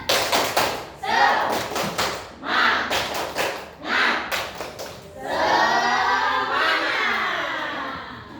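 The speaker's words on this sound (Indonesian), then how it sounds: "Tepuk semangat" A group of adults in a workshop does the rhythmic 'tepuk semangat' clap, sharp claps in short patterned bursts separated by chanted words, ending with a cheer and loud collective shouting.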